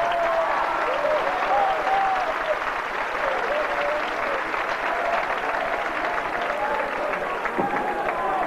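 Concert crowd at a 1990 Gran Rex show in Buenos Aires applauding, a sustained, dense roar of clapping from a large audience with scattered shouts and voices mixed in throughout.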